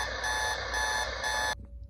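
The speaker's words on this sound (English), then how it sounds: "the horrid, horrid sound that these clocks make whenever the alarm goes off" A vintage Sonic digital clock radio's alarm, a harsh buzzing tone pulsing in short repeated bursts, close and loud, then cutting off abruptly near the end.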